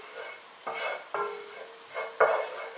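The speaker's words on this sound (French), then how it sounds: "on va bien répartir le beurre avec une cuillère en bois" A wooden spoon spreads melting butter around a pan over low heat, giving four separate soft scraping strokes, each with a faint sizzle, close and quiet with no talk.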